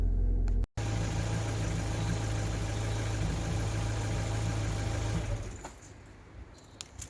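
A warm Ford Focus Mk1 with a rich fuel trim idles with a steady close hum and vibration, then the sound drops away and grows quieter near the end, with no talk.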